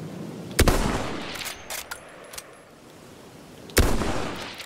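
Gunfire in the video game Battlefield 1 sounds as two sharp, loud shots about three seconds apart, with a few fainter distant pops between them over quiet game ambience.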